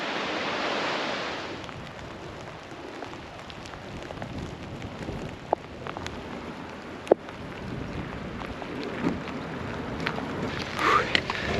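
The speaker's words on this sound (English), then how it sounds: "it started raining heavy" Heavy rain falling on a coastal footpath near the end of a hike from St Ives to Pendeen, a steady dense hiss throughout with occasional close knocks and rustles.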